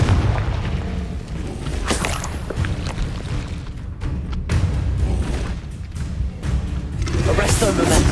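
Spell blasts in the Hogwarts Legacy video game land as repeated heavy booms and crackling impacts within a dense, continuous wash of game sound, with voices speaking over the action.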